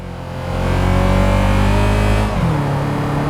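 Modded three-cylinder 1.2-litre car engine in BeamNG.drive, a loud steady revving drone that climbs and holds high, then drops back to a lower hum near the end, with no talking.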